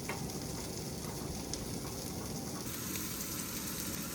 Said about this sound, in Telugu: సో తను మ్యారినేట్ చేసిన తందూరి చికెన్ ఉంటే దాన్ని ఫ్రై చేసుకుంటున్నారు.